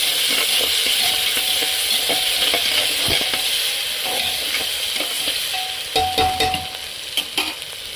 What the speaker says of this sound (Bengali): এবার একটু হাফ চামচ মতো আদা রসুন পেস্ট একটু নেড়ে নিয়ে ডালটা দিয়ে দেবো।